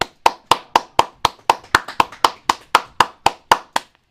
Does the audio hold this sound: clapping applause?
yes